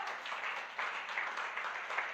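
A church congregation claps together during a sermon, a dense, even burst of applause filling the hall at moderate loudness with no voices over it.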